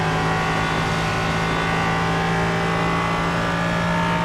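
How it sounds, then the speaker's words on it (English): An LMP3 race car in iRacing at Barcelona, its engine howling steadily and loudly with sustained harmonic tones at constant pitch throughout, close and unbroken, with no voices over it. "The glorious sound of the LMP3 at Barcelona and iRacing."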